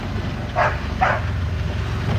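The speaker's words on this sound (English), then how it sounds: "she just barks at the front of the vehicle" A farm dog barks twice at the front of a vehicle, two short separate yaps over a steady low engine rumble and wind noise, with a faint third sound near the end.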